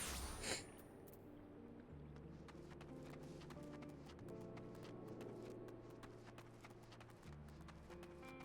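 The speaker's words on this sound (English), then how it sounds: "I love footstep sound effects in games." Footsteps in Final Fantasy XIV tap out a quiet, regular clip-clop rhythm under soft game music, close and faint throughout.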